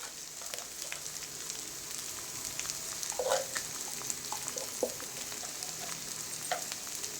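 Potatoes frying in a pan for masala dosa filling, a steady soft sizzle running throughout with occasional small crackles and pops, no talking.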